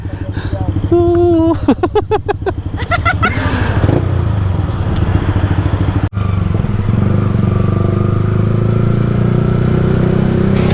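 A newly released motorcycle, still wrapped in its factory plastic, runs with a steady engine rumble and brief revving, close by, while people talk over it.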